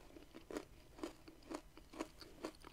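Crunchy Daim toffee chocolate bar bitten and chewed close up, about six sharp crunching bites spaced at a steady half-second rhythm, fairly quiet with no talking.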